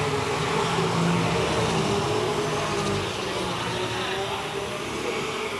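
Stock cars race in a 1995 MASCAR heat, a continuous broadband engine roar from the field that holds steady and then eases slightly, with a commentator talking over it.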